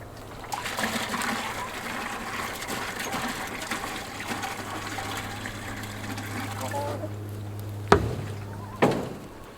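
Water is poured out for backyard chickens, a steady trickle and splash running for several seconds before a couple of sharp knocks near the end.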